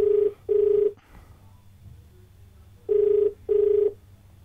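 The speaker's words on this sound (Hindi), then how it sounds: "और चलिए फ़ोन लगाते हैं अपने पहले कॉलर को।" An outgoing telephone ring calls a viewer during an Indian television call-in show. Two double rings come through clearly, spaced well apart, each made of two short steady tones with a quiet line between them.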